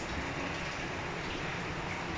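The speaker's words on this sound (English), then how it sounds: "it's totally raining outdoors and neighborhood. Seriously, it's raining." Hard rain pours down outdoors in a neighborhood, a dense, steady hiss with no break, loud and close throughout.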